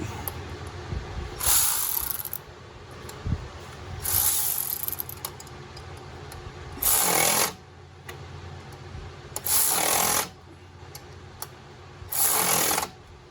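A ratchet tightening the bolts on a Ford F-series water pump, five separate bursts of loud, close clicking with quieter pauses between, and no talking.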